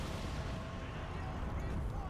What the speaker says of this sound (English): More random explosions from the terrain